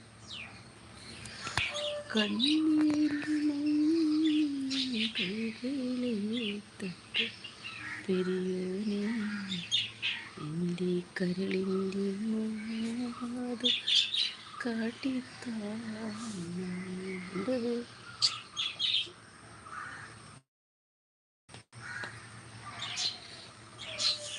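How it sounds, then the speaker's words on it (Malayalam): Small birds chirp and call in scattered, fairly faint bursts behind a person talking steadily nearly throughout, with a brief drop to silence near the end. "കിളിയാണ് നല്ല കിളി കരയുമല്ലേ"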